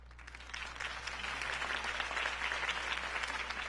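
A crowd applauding steadily after Harvey Dent's campaign speech, dense clapping that swells slightly and holds evenly throughout, over a low steady hum.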